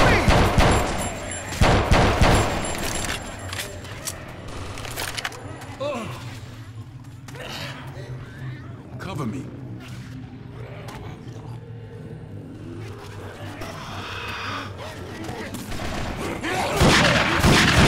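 Video game gunfire: scattered shots and bursts sit beneath dense, continuous action noise of creaks, mechanisms and rumbling, with shouted dialogue over the top, the whole scene loud and busy.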